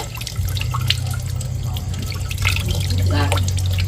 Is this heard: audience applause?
no